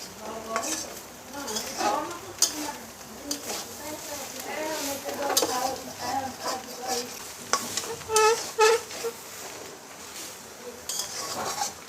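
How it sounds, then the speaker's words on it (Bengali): Banana stem stir-fried in mustard oil, with a spatula scraping and stirring the pan in bursts over a steady close sizzle and some clinks of utensils, a voice talking in places. "সরিষার তেল দেওয়ার পরে 2 মিনিট নাড়াচাড়া করে নেব"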